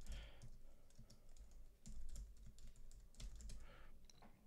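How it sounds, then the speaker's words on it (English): A password tapped out on a computer keyboard, with a quick run of soft, close key clicks in uneven bursts that last a few seconds, faint against a low room hum, and no speech. "I'm just going to tap in my password"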